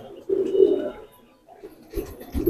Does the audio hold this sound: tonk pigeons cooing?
yes